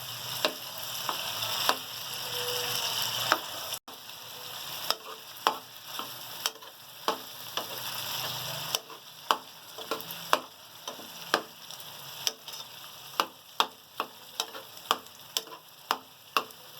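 Brinjal sizzles with spices in a pan for a village-style bharta, a steady frying hiss broken by regular sharp ticks and scrapes of a spoon stirring, close and alone without talk.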